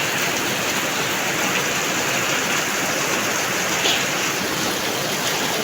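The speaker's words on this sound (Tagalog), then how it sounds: "Guys, ang lakas ng ulan." Heavy rain pours down in a dense, constant roar with no pauses, loud and close throughout.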